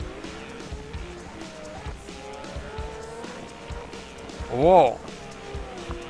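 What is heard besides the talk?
drifting car tire squeal in a virtual drift video game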